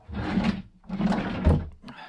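A drawer in a hotel room is pulled open and pushed shut, two muffled sliding rumbles ending in a firm thunk, close by and with no talk.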